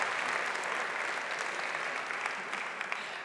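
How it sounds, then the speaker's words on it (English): A dense, even roar of applause from a large audience greets a speaker at a pitch competition, sustained throughout with no break and tapering only slightly at the end. "Can I get a big round of applause for Jan-Pieter Versluijs?"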